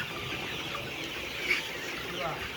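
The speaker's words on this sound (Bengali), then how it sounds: "দেখ মুরগিগুলো ঘুমাচ্ছে কোচা দিয়ে বসে আছে" Faint clucking of chickens sitting and sleeping in the background, with a soft murmur of voices nearby; quiet and low-key throughout.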